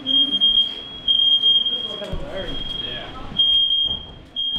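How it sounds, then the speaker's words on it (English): A smoke alarm set off by a haze machine beeps in a steady high-pitched tone that drops out and returns, with people talking loudly over it indoors. "The fire alarms went off"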